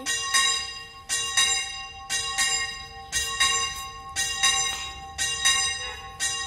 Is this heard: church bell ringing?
yes